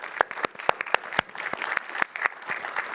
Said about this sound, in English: I ask a round of applause for our panelists.